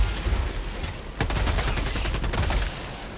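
Rapid, sustained Gatling gun fire in Helldivers 2, a dense stream of close, loud shots starting abruptly after a quieter rumbling stretch and running for about a second and a half before cutting off.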